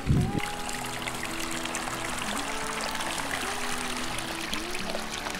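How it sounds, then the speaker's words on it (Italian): Irrigation water flows along a gently sloping potato furrow with a soft, continuous trickling wash. A brief louder splash comes at the start, and faint machinery tones drone underneath. "circa ogni 7 giorni do l'acqua a scorrimento alternativamente lungo i tre solchi"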